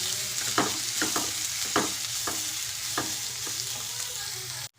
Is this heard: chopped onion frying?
yes